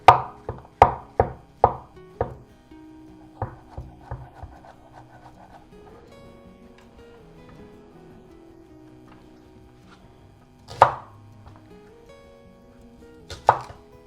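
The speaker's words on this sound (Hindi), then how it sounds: "बीन्स को काट लेंगे, डायगोनल काटेंगे, बिल्कुल पतले पतले स्लाइसेस। मशरूम को काट लेंगे।" Green beans sliced thin on the diagonal and mushrooms cut with a knife: a quick run of about six crisp board strikes, then scattered lighter taps and two isolated chops later, close and sparse.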